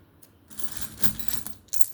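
Copper-nickel 5 rupee coins weighing 9 grams, handled close up. They give bright metallic clinks and taps in quick, irregular bursts over about two seconds, with no talking.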